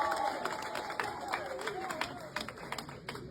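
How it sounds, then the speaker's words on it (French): Crowd at a political rally investiture in Côte d'Ivoire applauding and cheering, scattered claps over a noisy crowd with a sustained tone and murmuring voices throughout, moderately loud. "Donc je voudrais que vous l'applaudissez très très fort."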